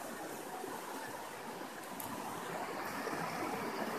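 Floodwater rushes under a damaged railway track where the soil beneath has washed away and the road below is broken, during a severe flood in West Champaran, Bihar; a steady, loud broadband rush of flowing water runs throughout with no talk.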